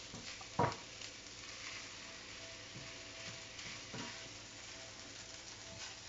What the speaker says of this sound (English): basically we want to fry up our rice as well